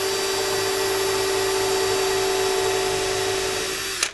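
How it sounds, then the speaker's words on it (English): A power drill whines steadily at close range as it bores into wood, one continuous run that stops abruptly at the end. "it's a matter of drilling to the blue line"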